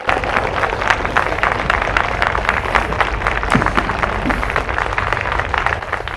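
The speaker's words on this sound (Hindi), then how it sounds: "जोरदार तालियों से आचार्य जी का स्वागत करते हैं।" A crowd at an on-stage conversation event applauds loudly to welcome a speaker, with dense, continuous clapping from many hands holding steady throughout.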